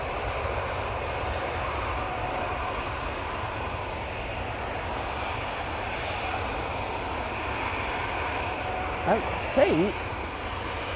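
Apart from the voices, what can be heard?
Lufthansa Airbus A321 arriving from Frankfurt at Manchester Airport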